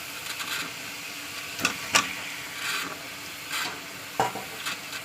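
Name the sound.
magur catfish pieces added to frying spiced oil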